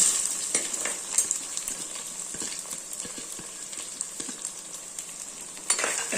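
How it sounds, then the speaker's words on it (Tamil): Onions and garlic sauté in a pan on low heat with a steady, hissing sizzle, joined by occasional soft clicks and scrapes of stirring, while a fish gravy is being cooked. No one speaks. "வெங்காயம் நல்லா வதங்கட்டும் பூண்டு நல்லா வேகட்டும்"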